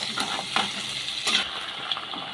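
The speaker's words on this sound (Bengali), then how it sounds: "আমি পেঁয়াজটাকে তেলে দিয়ে আমি ভালো করে নেড়ে চেড়ে নিয়েছি" Onion and tomato fry in oil with a constant close sizzle, broken by a few quick stirring scrapes of a spatula in the pan, with no speech.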